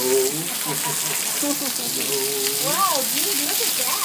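Heavy rain pours in Arizona as a steady, dense hiss that fills the whole clip, while excited voices talk over it close by.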